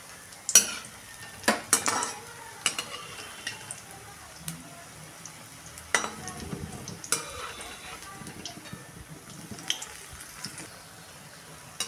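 Bhaji fritters fry in hot oil while being turned over, giving a soft, faint sizzle with scattered sharp clinks and scrapes of a utensil against the pan.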